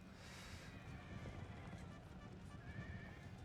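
Militia cavalry horses in the Empire: Total War game, a dense rumble of many hooves galloping at moderate distance with a neigh or whinny mixed in, steady and fairly faint under low wind-like noise.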